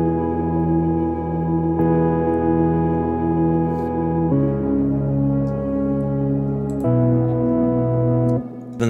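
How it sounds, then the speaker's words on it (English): Atmospheric synth pad drenched in heavy wet reverb, sustaining wide layered chords that shift three times over nine seconds, loud and alone with no voices. "Altogether, the pad sounds like this."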